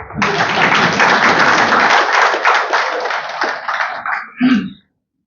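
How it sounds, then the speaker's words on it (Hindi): Listeners at a public talk on a minority commission break into loud, dense clapping that holds steady for several seconds, thins out, swells briefly once more, then stops abruptly. "ताली बजाइए।"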